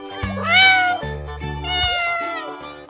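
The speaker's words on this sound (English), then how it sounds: "Cat." A cat meows twice in an animal game, two clear, drawn-out tonal cries in quick succession, loud and close with no talking.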